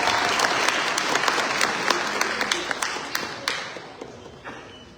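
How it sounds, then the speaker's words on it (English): Audience applause for contestants at a spring student show, a steady wash of clapping with a few sharp near claps standing out and slowly fading toward the end. "Can we give them a round of applause for being in the show?"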